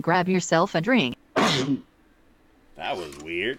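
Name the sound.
sneeze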